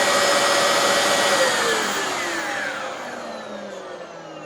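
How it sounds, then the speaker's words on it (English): An old Hoover hand turbo tool runs on a vacuum, giving a loud, steady whine and airflow rush whose pitch slowly drops as it winds down over several seconds, with no talking. "So this very old turbo tool works no matter what speed you decide to put it on."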